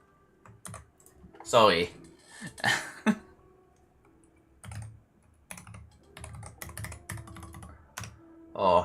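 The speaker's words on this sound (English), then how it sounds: "Oh, I'm typing people's names." Clattering on a computer keyboard in bursts of quick keystrokes with pauses between, close and fairly loud, while a man coughs, clears his throat and briefly speaks.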